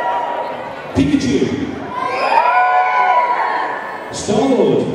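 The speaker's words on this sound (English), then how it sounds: "Let's try again, loud and clap for your winner, Robin." An audience at a comic convention cosplay final bursts into cheering and clapping in three waves, shrieking voices and whoops rising, dipping and surging again, with crowd noise throughout.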